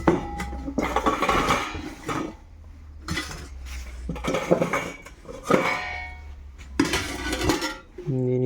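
A metal tiffin box is lifted from among the pots and utensils in a small snack shop, producing bursts of clanking and clinking metal close by, with voices talking in between.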